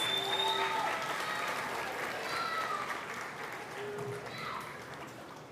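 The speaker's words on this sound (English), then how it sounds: "give her another round of applause." Audience applause for a contestant at a schools' Black History elocution contest in Nevis, a steady wash of clapping that gradually fades, with faint voices and whistle-like tones mixed in.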